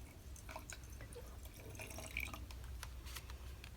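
Water poured into a jar of soaked cotton balls for a galaxy jar craft, heard as soft trickling and dripping, close but faint with no talking.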